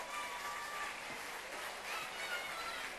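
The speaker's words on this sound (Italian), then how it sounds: "un grande applauso!" An audience at a singing festival applauds as a contestant is introduced, a dense, even spread of clapping heard from a distance, with faint voices and a light tonal murmur under it.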